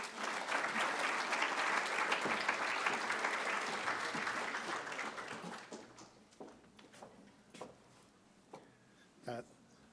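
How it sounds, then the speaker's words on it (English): Audience applause fills an award ceremony hall at a brain injury awareness event, dense and steady for about five seconds, then thins into scattered claps and fades out. "A big clap for Rick"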